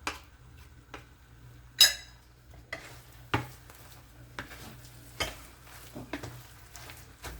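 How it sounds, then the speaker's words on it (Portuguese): Thick cassava dough is stirred in a pot with scraping and soft knocks of a utensil against the sides, repeating irregularly. "Vou mexendo ela assim bem, até ela desgrudar aqui do fundo da panela"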